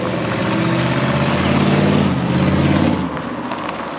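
A rusty car with its mufflers cut off drives past with a loud, raw engine roar. The rumbling exhaust holds steady throughout and eases slightly near the end.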